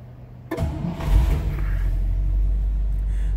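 A 1957 Oldsmobile Starfire 98 engine cranks briefly and catches, then settles into a low, steady rumbling idle, close and fairly loud.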